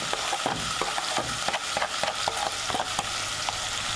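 Onion, mashed garlic and seasonings sizzle in a pot for a chicken and bean curry stew, a steady frying hiss broken by regular scraping stirs of a cooking spoon, close and alone.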